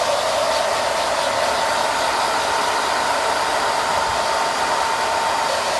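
Salon hair dryer blowing over wet hair, a steady, close, continuous roar of rushing air that holds level throughout with no voices.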